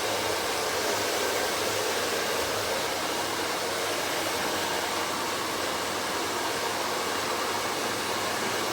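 A hair dryer blows on hair in a continuous, loud, even rush of air that lasts the whole time, with no break.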